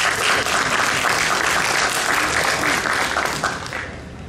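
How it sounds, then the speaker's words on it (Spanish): An audience at an ethics conference gives a warm welcoming round of applause for an incoming speaker, dense and steady clapping that fills the room before thinning out toward the end. "la recibimos con un caluroso aplauso"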